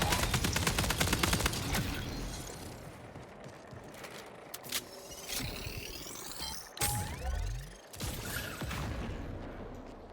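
In the Marathon video game, a light machine gun fires a rapid, loud burst of rattling shots, then breaks off into mechanical clanks, whooshes and scattered game effects.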